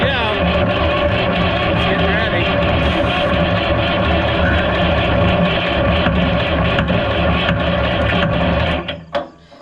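A neglected Oliver 1250-A tractor engine runs loud and close on a test start, a dense, rattling clatter holding steady for several seconds before abruptly cutting out.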